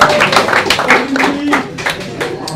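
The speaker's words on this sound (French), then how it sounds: "Vous pouvez l'applaudir ou lui dire merci." A small audience in a bar claps in scattered, uneven bursts, with individual hand claps standing out and a faint murmur of voices underneath.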